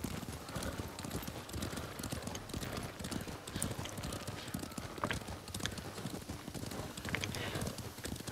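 Horse hooves in the video game Ghost of Tsushima, a steady rapid clip-clop of galloping or trotting close by, continuous and fairly faint, with a brief whinny mixed in.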